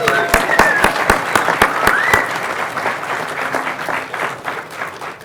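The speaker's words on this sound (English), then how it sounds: "Let's give them a big hand." Audience applause fills a keynote hall at a food justice summit, starting with a few loud, sharp claps and swelling into steady, dense clapping that lasts several seconds and then gradually thins.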